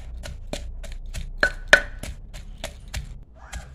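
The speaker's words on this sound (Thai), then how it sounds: "ขออนุญาตตำให้เข้ากันก่อนนะเจ้า" Northern Thai chili paste, nam prik ong, pounded in a mortar: about a dozen sharp, evenly spaced thuds in a steady rhythm, close and clear with nothing else heard.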